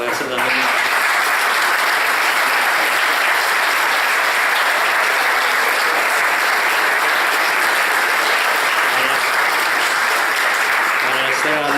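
A large audience applauds at a public presentation in Rosario, loud, dense, steady clapping that fills the room continuously from start to finish.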